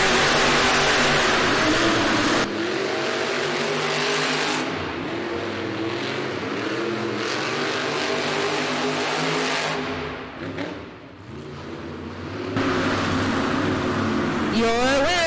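Monster truck engines roar and rev at the start of a Monster Jam race in an arena, loud and sustained with surges and a brief dip, while an announcer talks over the noise.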